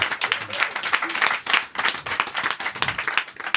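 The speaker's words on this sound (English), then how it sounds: "sure, we can clap for that." A few podcast hosts clap together in a small room, a close, dense patter of hand claps that comes in uneven bursts and stays loud for a few seconds.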